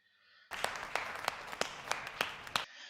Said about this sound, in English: Round of applause for Jeff, everybody.